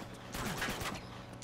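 Gunfire in the Uncharted video game: a short burst of shots under a busy game soundscape, moderately loud and dense over about a second.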